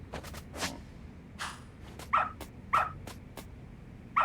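Dog barking in the video game Lost Judgment, three short sharp barks spaced about half a second apart near the end, preceded by a few softer yips and whines over a low background hum.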